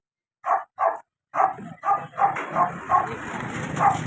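Several close, loud dog barks in quick succession, the first two isolated, then a rapid overlapping run of barking from more than one dog, at a house in a rural province.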